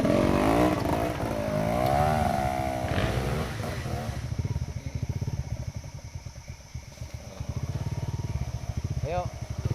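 Dirt motorcycle revving on an extreme trail near Curug Sirah, Cibeusi, Subang, a loud close engine drone with rising throttle pulses and rhythmic chugging, with someone talking over it early on.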